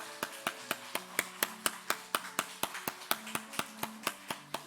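A church congregation at a Sunday morning service applauds in a steady, even rhythm of about four claps per second, sharp and fairly close, with a sustained organ or keyboard chord held beneath.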